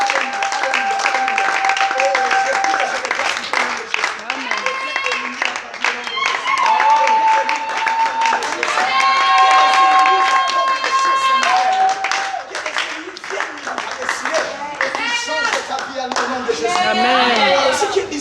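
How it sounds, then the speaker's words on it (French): A church congregation cheers and claps for Jesus in steady, dense applause, with voices shouting and singing over it throughout. "est-ce que tu peux acclamer pour Jésus?"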